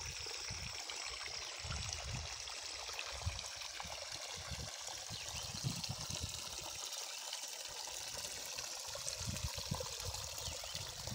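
Water from a leak in an earthen dike near a mosque runs in a continuous close trickle and gush, with a steady rushing flow and fine splashing that goes on unbroken.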